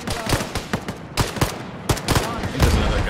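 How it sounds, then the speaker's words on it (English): Friendly fire from a Hind attack helicopter in Arma, heard as loud bursts of automatic gunfire and sharp impacts in several separate volleys over about three seconds. "That was friendly fire by the fucking hind."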